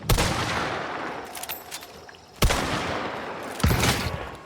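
Shotgun blasts in the video game Hunt: Showdown, two loud sharp booms a little over a second apart, each with a short echoing tail, followed by a third softer shot.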